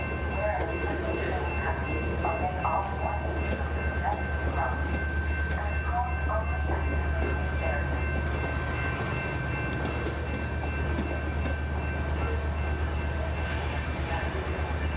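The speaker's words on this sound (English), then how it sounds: "It's a northbound SunRail." A northbound SunRail commuter train rumbles steadily past in Sanford, with a constant heavy low drone and rattling wheels. Faint voices talk underneath.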